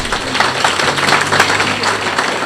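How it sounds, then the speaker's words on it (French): Church congregation applauding during a sermon, a steady dense wash of many hands clapping together at moderate volume, sustained for the whole stretch with a faint murmur of voices underneath. "Alors applaudissez pour Dieu."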